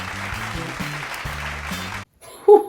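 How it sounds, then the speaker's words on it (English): A studio audience claps for a departing show guest, a moderate burst of applause with a faint underlying tone that cuts off abruptly into near silence, followed by a brief isolated sound. "Let's give him a round of applause for being here."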